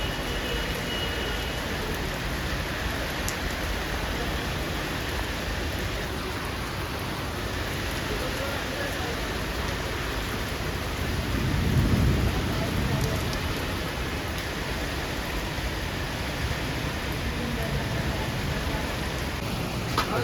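Steady heavy rain pours down in Bhubaneswar during a monsoon storm, a dense continuous hiss with a low rumble of thunder swelling briefly midway.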